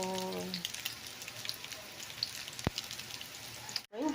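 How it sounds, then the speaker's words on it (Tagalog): Tiny dulong silverfish frying in a pan, a steady crackling sizzle like light rain with occasional pops, a voice briefly at the start and another at the end. "iprito na natin yung ating dulong"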